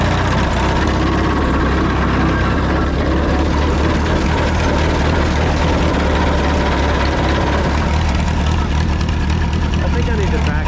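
The engine of a 1951 Cletrac Oliver HG42 crawler bulldozer, smoking badly, idles loud and close as a steady low rumble that continues unbroken throughout.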